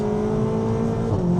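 A tuned Stage 2+ Seat Leon Cupra 280 engine, boosted to about 380 hp, drones loudly from inside the car, then dips in pitch briefly as it shifts, with no speech over it.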